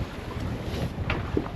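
Strong wind at sea on a sailboat running under just the head sail, a steady rushing buffet of wind noise against the microphone with faint splashing swells.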